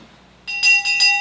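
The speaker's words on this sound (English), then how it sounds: "all is quiet except the sound of church bells" Bells chime in a quick, bright series of several ringing strikes after a moment of near silence, clear and fairly close.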